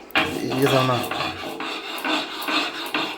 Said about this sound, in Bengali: এখন আমি বেটে নিচ্ছি, গরম মশলাটা পাতায় বেটেই দিই